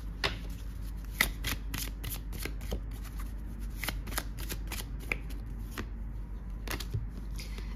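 Archangel oracle cards being shuffled by hand, a quiet run of crisp riffling snaps and soft slides in an irregular rhythm, close and alone with no talk.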